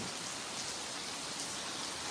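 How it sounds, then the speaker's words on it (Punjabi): Heavy rain falling on houses, a dense, steady hiss of drops on surfaces that stays constant and fills the whole moment. "ਫਿਰ ਬਹੁਤ ਸਾਰੀ ਬਾਰਿਸ਼ ਦੇਖੋ ਘਰਾਂ ਦੇ ਵਿੱਚ"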